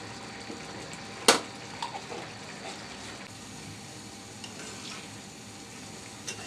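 Shrimp khichuri being stirred with spices in a pot, a soft, steady sizzle and scrape with one sharp utensil clank near the start and a few lighter knocks after.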